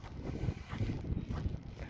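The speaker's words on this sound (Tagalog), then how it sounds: "ang lakas ng hangin" Steady, gusty, cold wind rumbles and buffets the microphone with low, uneven blasts in snowy weather, continuing throughout without any voices.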